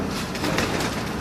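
A Chinese pigeon, cheena kabootar, coos softly on a rooftop, a low throaty murmur lasting just over a second amid steady background noise.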